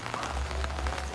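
Rain falls steadily while a motorcycle is being repaired outdoors, a dense continuous patter of drops on surfaces with a low rumble beneath and no talk.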